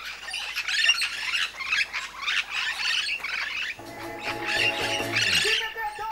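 Wild parrots squawk on Bonaire at an early-morning feeding spot, a loud chorus of harsh, repeated calls close by, with a steady tonal hum joining in partway through.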